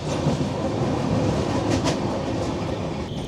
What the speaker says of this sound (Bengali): ট্রেন ঢুকছে গুন্টাকাল জংশন।